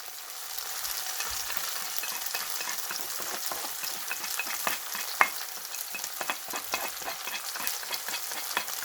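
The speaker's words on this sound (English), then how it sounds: "Once you add spices, you have to be quick with stirring the onions because they tend to stick at the bottom." Onions fry with red chilli, garam masala, turmeric and aamchoor in a pan, a soft steady sizzle broken by scraping taps of a spoon stirring, close and fairly quiet.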